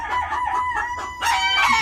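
A broody farm hen, being set on eggs, squawks and clucks in loud, close, agitated bursts that run almost without a break and grow harsher near the end.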